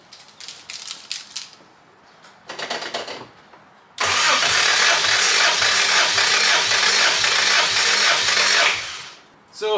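A vehicle engine is cranked over by its starter during a compression test: a few short mechanical noises first, then about five seconds of loud, steady, rhythmic cranking that stops abruptly.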